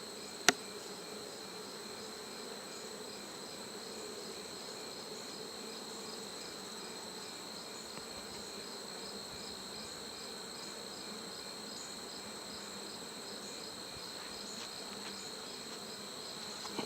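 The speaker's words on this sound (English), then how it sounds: "there's yellow jackets all over the place" Yellow jackets buzz steadily around a Buckfast breeder beehive, a faint, continuous insect drone with one brief sharp tap near the start and no voices.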